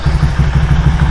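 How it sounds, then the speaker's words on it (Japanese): A Honda Benly CD50 50cc motorcycle, long unused and with a dead battery, runs right after starting without choke. Its small single engine puts out a loud, close, even chugging beat with metallic clatter and no voices. "久しぶりにエンジンでもかけておきましょうかね。"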